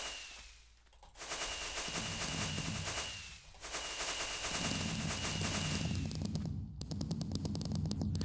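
Fireworks explode in a video game, coming as rapid crackling bursts in several loud waves separated by brief quieter gaps, each burst a dense rattle of pops.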